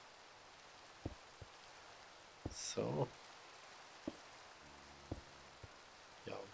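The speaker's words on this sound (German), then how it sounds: "Es regnet die ganze Nacht durch." Rain falls through the night in Minecraft as a faint, steady hiss, broken by a few soft clicks and one brief louder rush; a voice says a single word.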